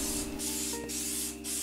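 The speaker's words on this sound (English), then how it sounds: "You can paint it with any spray color." Silver spray paint hisses from an aerosol can in three long continuous bursts with brief gaps, close and steady, used for an aluminum-color finish on a foam RC model plane part, with no talking.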